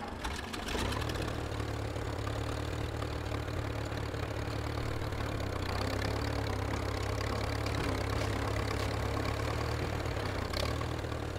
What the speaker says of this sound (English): A tractor!